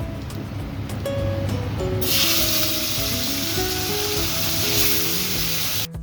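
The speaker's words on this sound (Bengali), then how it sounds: "মাছের প্রচণ্ড তেল বেরিয়েছে আর দুটো আছে আমি ভেজে নেবো" Fish frying in hot oil, releasing plenty of its own fat, gives a steady loud sizzle and crackle that swells after the first two seconds, with faint clinks and tonal background sounds beneath.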